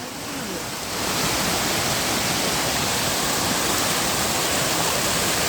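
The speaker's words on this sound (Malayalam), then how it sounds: "കുത്തൊഴുക്ക് വെള്ളച്ചാട്ടം വന്ന ഗംഭീര വെള്ളച്ചാട്ടം കുത്തൊഴുക്കാണ്" A powerful 1000-foot waterfall in the Mangalam Dam forest roars steadily and loudly throughout, a dense continuous rush of crashing water with no voices.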